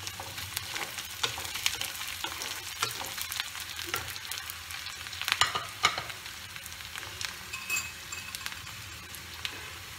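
Chopped garlic and browned onion sizzle steadily in hot oil in a pan for Bengali fried rice, broken by sharp clinks and scrapes of a spatula stirring through, with no voices.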